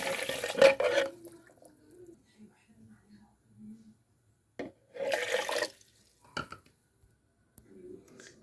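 Water is poured into a kitchen blender over sugar for an eggless cake batter, coming in two short splashing bursts a few seconds apart, with quiet kitchen handling and faint low voices in between.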